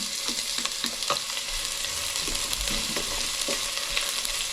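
Garlic and onion fry in a hot pan, giving a steady close sizzle with scattered crackles and occasional scrapes of stirring throughout.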